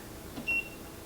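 A kitchen timer gives one short, thin electronic beep, close and clear over a quiet background of low kitchen noise while fried shrimp cooks.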